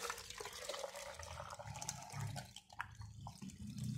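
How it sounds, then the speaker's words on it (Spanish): Water pours steadily into a blender jar over chopped cucumber and pineapple, a close, continuous gurgling splash with bubbling variations and no talk. "Y le vamos a colocar el agua a que tape."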